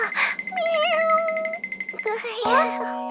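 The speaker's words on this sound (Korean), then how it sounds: "아기 고양이다." A baby kitten meowing in a children's Christmas song cartoon, with high tonal mews among music and a voice talking over it.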